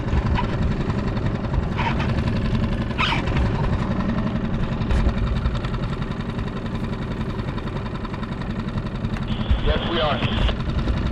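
Skiff outboard engine running steadily at about ten knots off La Jolla, a constant low droning hum throughout, with brief voice exchanges heard over the motor.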